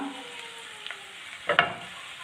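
Curry leaves drop into onions frying in oil for a tender jackfruit and dry prawn curry, giving a soft steady sizzle with a brief louder crackle burst near the end.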